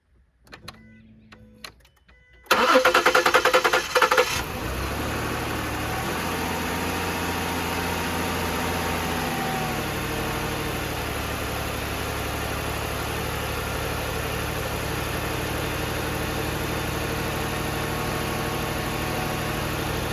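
A Ford Explorer engine cranks briefly, catches and settles into a steady, even idle with a mild mechanical hum and vibration, heard close and alone, just after a water pump replacement.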